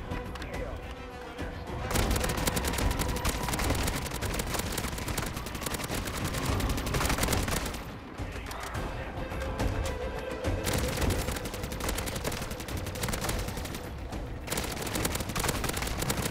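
Dense, sustained automatic gunfire in Modern Warfare III DMZ, loud and continuous with brief lulls between bursts, layered with booming shots.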